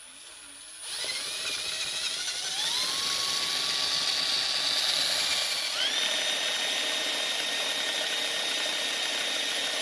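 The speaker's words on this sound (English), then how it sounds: "That's just for me spinning the drill." An electric drill whines up to speed against a small wind generator, its pitch climbing steadily, dropping briefly, then rising again and holding a loud, steady mechanical whir close by.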